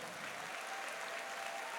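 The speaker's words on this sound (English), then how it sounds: "Let's give the cheerleaders a round of applause." A crowd at a school convocation applauds the cheerleaders, a steady, even wash of clapping heard from a distance, soft and continuous with no talking.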